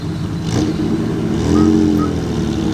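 A Reliant Scimitar GTC with a V6 engine runs steadily at a classic car show, its low, even engine note holding close by and swelling slightly mid-way with faint clatter.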